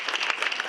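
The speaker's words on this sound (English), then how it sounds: "So I just wanted to give you a big round of applause" Wedding guests applaud during the speeches, a short burst of dense clapping at moderate level, fairly steady with no voices on top.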